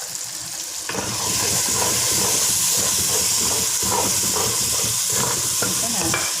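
Ground masala paste drops into a hot pan for sardine fish curry, bursting into a loud, sustained hissing sizzle after a brief quieter lead-in, close and continuous to the end.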